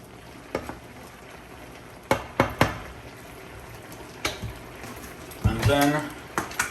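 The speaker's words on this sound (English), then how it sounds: "stir it a bit" Okra is stirred in a cooking pot for Jamaican-style steamed fish: sporadic knocks and scrapes of a utensil against the pot over a low bubbling simmer, with a person talking nearby.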